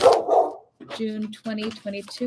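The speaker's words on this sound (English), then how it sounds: "there are dogs out there having some fun" Neighbourhood dogs playing in a backyard in summer, barking repeatedly at a distance in short bursts while a person talks over them nearby.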